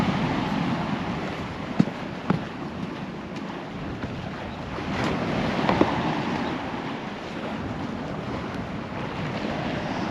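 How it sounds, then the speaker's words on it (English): Big waves crash against cliffs on the Holderness coast at Tunstall, a steady broadband roar with wind buffeting the microphone and a few louder surges, no talking. "There's some big waves whacking these cliffs though, further to the right of me."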